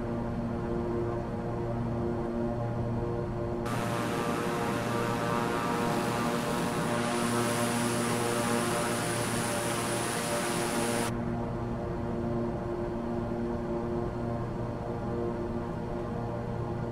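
A Beechcraft King Air turboprop in Microsoft Flight Simulator hums with a steady propeller drone and engine whine on takeoff, joined midway by a brighter hissing rush that later cuts out. No talk is heard.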